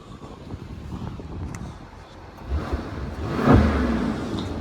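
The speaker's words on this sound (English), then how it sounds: "Let's get a look at the exhaust note because I know it's going to be freaking fantastic." A Mercedes-AMG E63 S V8 revs up with a rising, rumbling exhaust roar, loud and close, swelling toward a peak near the end.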